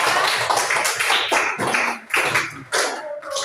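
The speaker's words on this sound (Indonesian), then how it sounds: "Tepuk tangan untuk kita semua ya" Students in a classroom clap their hands together in bursts of rhythmic group claps, loud and close, with short gaps between the rounds.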